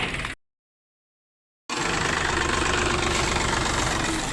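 A tractor engine runs steadily in a field, loud and close, with an even rumbling idle that resumes after a brief gap of silence.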